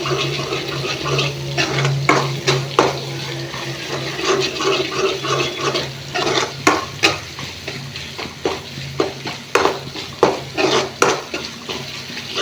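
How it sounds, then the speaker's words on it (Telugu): Meal maker soya chunks fry in a pan, with a steady low sizzle under repeated scraping and clacking as a utensil stirs them, the strokes growing sharper and more rhythmic toward the end. No one speaks. "చూసారా కలర్ అనేది చేంజ్ అవుతుంది ఈ విధంగా వేయించుకోవాలి"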